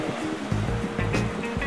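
Sea waves break and wash up on the shore at Riccione, a loud rushing surge of water close by that swells and recedes in repeated pulses over steady low wind rumble.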